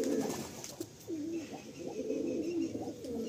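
Giribaz pigeons at a Kolkata pigeon sale cooing close by, with repeated low throaty coos in an overlapping steady rhythm and no talk.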